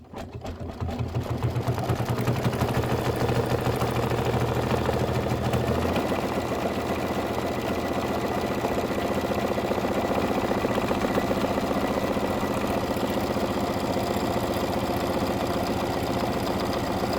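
An embroidery sewing machine stitching a satin stitch on a quilt block, a rapid, steady mechanical whirring hum starting after a brief pause and running continuously and close throughout, with a slight shift in tone partway through.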